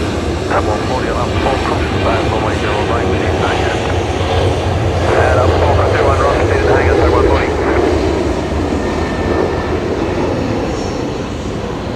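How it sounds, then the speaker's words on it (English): A Qantas jet starts its departure roll at Brisbane Airport at night, a loud, sustained engine roar that builds slightly in the middle and then eases toward the end. "And next departure's rolling, which is Qantas 939."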